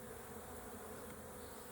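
Dense, steady buzzing of many honey bees swarming around an open hive during an inspection, a continuous close hum with no voices.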